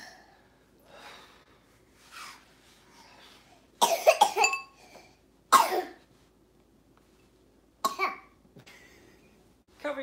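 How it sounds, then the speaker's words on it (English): A child coughs in a few sharp, loud bursts, separated by quieter breathing and small throat noises, with pauses in between. "cover your mouth when you cough."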